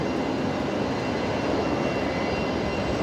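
China Airlines Airbus A350 jet departing Brisbane Airport, a loud continuous broadband engine roar that holds steady from start to finish, with no voices over it.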